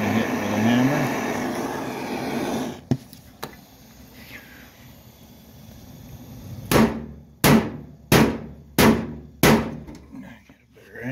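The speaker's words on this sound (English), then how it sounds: "This one I am going to hit with a hammer." A hammer strikes the steel fender of a 1937 Dodge bed side in five sharp, evenly spaced metallic blows, close and loud, after a quieter stretch with a couple of isolated knocks.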